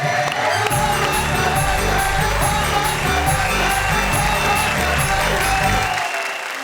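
Audience applause with scattered cheers and whoops greets poet Rana Tabassum as she is called to the stage at a poetry gathering; steady, dense clapping runs loud for about six seconds before cutting off.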